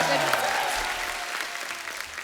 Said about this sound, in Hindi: तालियां जोरदार होनी चाहिए।